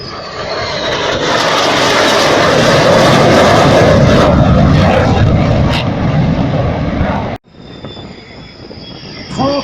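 At an air show, a loud engine roar builds and sustains like a Rafale Marine jet passing close, then cuts abruptly, leaving quieter whining noise from a small Cricri airplane afterward.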